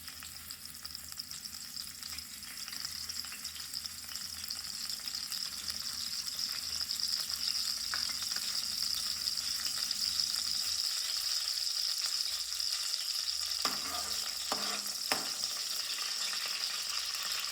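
Green garlic hits hot tempering oil for a green pigeon pea dish, giving a steady bright sizzle that runs throughout with a few stirring clatters toward the end.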